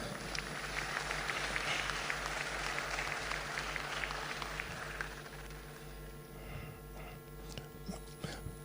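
A seated audience at a formal central bank anniversary ceremony applauds the governor, a dense, even clapping over a steady electrical hum that thins and fades out in the final few seconds.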